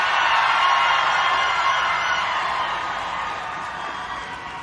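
Joyful outdoor rally crowd on a frigid January day at the March for Life, cheering as a broad, steady wash of noise that swells early and slowly fades, heard from a distance with no clear voices.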